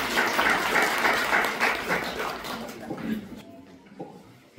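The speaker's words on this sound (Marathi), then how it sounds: "प्रवीण गोकुलकर याच्यासाठी जोरदार टाळ्या वाजवू" Applause from the audience at the fourth Shabdvel literature conference, a dense burst of many hands clapping that gradually thins and fades to near quiet.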